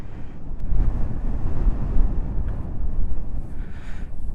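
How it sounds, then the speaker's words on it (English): Strong wind buffets the microphone in a steady, heavy low roar that barely lets up, with no voices, at a high viewpoint in the Black Hills. "It is about as windy as can be up here."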